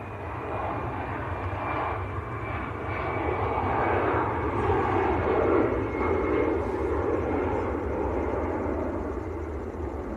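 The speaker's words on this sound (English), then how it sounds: "Lufthansa to Frankfurt, A319." A Lufthansa Airbus A319 bound for Frankfurt at Manchester Airport produces a continuous, fairly faint engine rumble with a thin high whine, building gently toward the middle and staying steady, no speech present.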